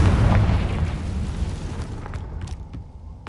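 Hogwarts Legacy Confringo blast curse, a loud booming explosion right at the start that rumbles and slowly fades, followed by a few faint clicks and debris sounds, with no talking.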